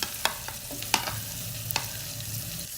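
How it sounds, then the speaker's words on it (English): Chopped vegetables hit hot oil in a pan with spices, hissing in a steady close sizzle punctuated by sharp clicks and taps of stirring, no talk. "then add your chopped veggies."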